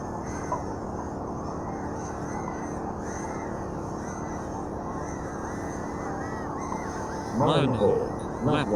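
FPV racing quadcopter drones whine and buzz at an outdoor race event, a dense continuous high-pitched motor drone that holds steady and swells louder near the end, with crowd noise underneath.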